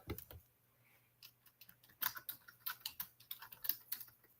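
Keys clatter on a computer keyboard in short irregular bursts, crisp close clicks that pick up into a faster steady run, heard alone over a faint electrical hum.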